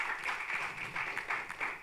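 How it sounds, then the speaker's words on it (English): An audience at a prison reform public consultation breaks into applause, a dense continuous patter of many hands clapping, fairly distant and even for a couple of seconds. "I think that deserves a round of applause"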